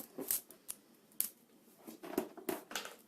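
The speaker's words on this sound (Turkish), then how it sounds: "Yine aynı şekilde şu uç kısmından şöyle keselim." Scissors snip the tip off a plastic bottle during a recycled-materials vase craft, a few crisp separate cuts spaced over a few seconds, close and fairly quiet with no voices.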